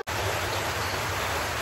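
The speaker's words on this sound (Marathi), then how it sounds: "पाऊस आला, लय पाऊस आला." Heavy winter rain pouring down at night, a steady, loud broadband hiss that stays even and unbroken throughout, with no voices.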